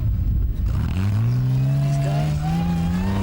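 A 4x4 trials truck climbs a hill at the Mercer round in New Zealand, its engine revving hard and rising steadily in pitch as it strains upward, loud and close throughout.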